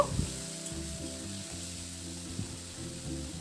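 Potatoes fry with ground spice paste in a pan, giving a soft continuous sizzle with low scraping and stirring rhythms underneath, close and fairly quiet.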